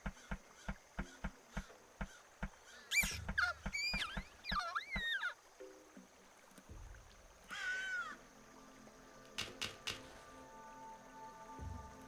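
A crow in The Night of the Rabbit game caws in a few harsh, wavering calls, after a run of regular ticking beats and amid scattered game effects and clicks, moderately loud with no talking.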